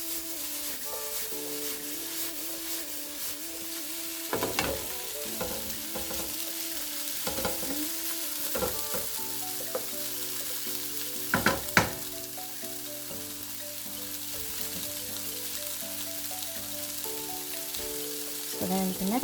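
Vegetables sautéing in a pan as the base of a beef stew, giving a steady soft sizzle with occasional stirring scrapes and bumps, fairly close and quiet, with no one speaking.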